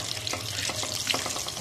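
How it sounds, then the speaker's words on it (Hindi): Whole garam masala spices frying in hot oil for a masaledaar pasande dish, giving a steady, close sizzle with small crackling pops scattered throughout and no talk. "साबुत गरम मसाला डालेंगे"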